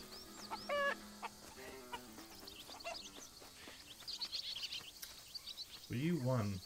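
Chickens cluck and squawk on a farm in the video game Alba: A Wildlife Adventure, with several short, close calls scattered throughout and a louder burst at the end. Voices talk intermittently beneath the birds.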